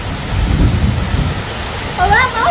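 Steady rain falls with deep rumbling thunder during a storm, loud and close, and a brief higher voice-like sound near the end.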